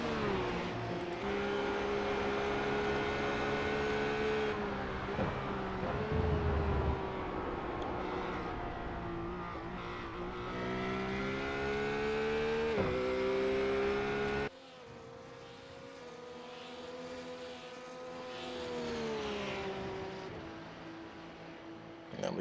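Supercars and RUF race cars at Phillip Island, heard as a loud, sustained engine roar that climbs and shifts in pitch through gear changes, with a brief cut and a slightly quieter continuation as the pack charges into a corner.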